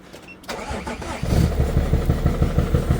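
BMW 330d diesel engine with a blown turbo cranks and starts, then runs with a loud, close, rough rhythmic knock and heavy droning noise; no talking.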